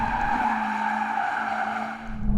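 Mercedes-AMG CLA 45 S drifting sideways with tires skidding, a loud steady squeal held for over two seconds with engine noise underneath, close and without talk.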